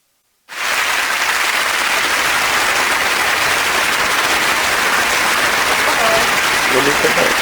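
A loud, dense burst of applause begins suddenly and continues steadily, many hands clapping together without pause.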